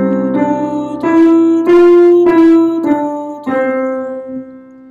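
A solo voice sings the first four notes of a major scale, four sustained, clear pitches stepping upward with brief breaths between, close and resonant with no accompaniment.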